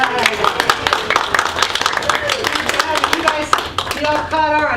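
An audience claps after a second grade music performance, with brisk, uneven hand claps filling the room and children's voices and chatter mixed in.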